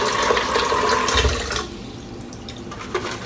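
Tap water running into a sink for shaving lather, a steady broad rush that drops off abruptly midway, leaving softer trickling and drips with no talking.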